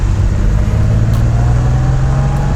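Porsche 911 3.2 Carrera engine on a drive, a steady low drone with a slight pitch rise during a downshift with rev matching, close and continuous, no talking.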